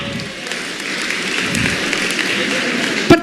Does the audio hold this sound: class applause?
yes